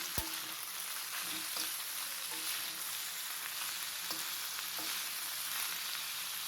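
Broad beans fry in a pan with turmeric while being stirred, giving a soft, continuous sizzle broken by occasional light scrapes and taps of the spoon against the pan.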